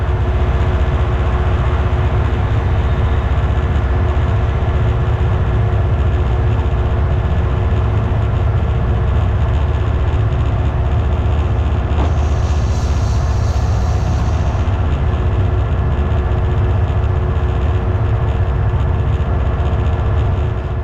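A Class 59 diesel locomotive runs steadily on the line near Acton toward Herne Hill, a continuous loud low engine drone and rail rumble from the cab, with a brief brighter hiss midway.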